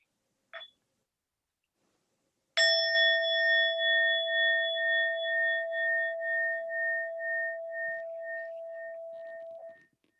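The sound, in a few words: meditation bell rung once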